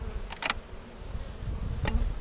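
Honeybees around a bee package, a faint low hum with a few brief buzzy passes of single bees flying close.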